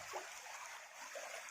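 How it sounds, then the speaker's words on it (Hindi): A mountain stream near Rani Mahal in Palpa, Nepal, flows in a faint, continuous rushing wash with soft gurgles, heard from some distance with no talking. "ये पानी तो कितने अच्छे से बह रहा है, वाह।"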